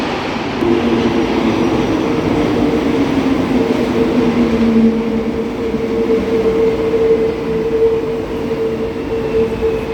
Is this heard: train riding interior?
yes